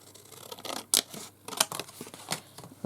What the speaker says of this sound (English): I can just cut a piece off here